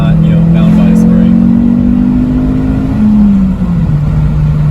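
A 2003 Ford Focus SVT engine drones loudly from inside the cabin during a ride-along, its tone rising steadily as it revs, then easing back down, with voices speaking over it.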